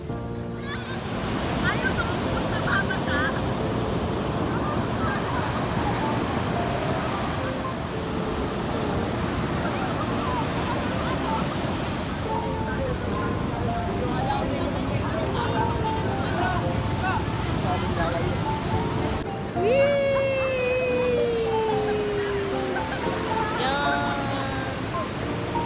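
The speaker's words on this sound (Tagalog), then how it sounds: "Grabe yung alon dito." Ocean surf breaks on the beach at Baler, Aurora in a constant heavy roar with wind buffeting the microphone, loud and close, with people talking faintly over it.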